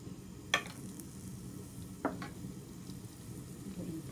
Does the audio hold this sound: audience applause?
no